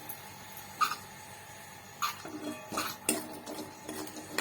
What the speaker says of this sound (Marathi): गॅस लो ठेवायचा आणि अधूनमधून असं करपू नये म्हणून छान हलवत राहायचं